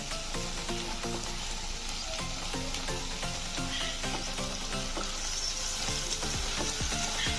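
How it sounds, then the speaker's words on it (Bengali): Vegetarian okra and potato curry sizzles and fries in a pan while being stirred, a steady close crackle with rhythmic scraping strokes of the spatula throughout and no talking. "দিয়ে আমি ভালো করে নাড়িয়ে নেব"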